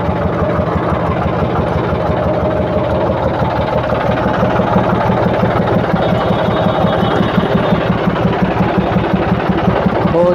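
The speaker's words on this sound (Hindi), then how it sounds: "जब हम ये लीवर को अप पोजीशन में लेकर जाते हैं तो इंजन का साउंड दबता है" A tractor engine runs steadily and close while its hydraulic lever lifts against a trolley that will not rise, giving a constant, heavy, rhythmic labouring drone with no pauses or talk.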